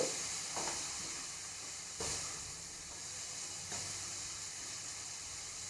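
Carrot thoran, a Kerala-style stir-fry, is stirred in a pan, giving a faint steady sizzle with a few soft scraping stirs spaced through it, no talk.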